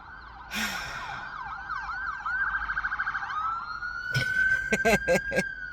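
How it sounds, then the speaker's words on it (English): Sirens wail in the distance, rising and falling, with breathy vocal sounds and short bursts of noise close by. "Hello, sirens."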